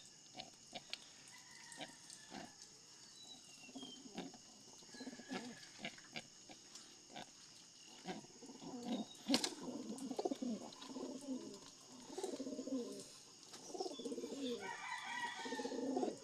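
An agitated pigeon kept as a pet, its low coos and throaty grunts repeating at close range, growing busier and louder in the second half, with no talk over it.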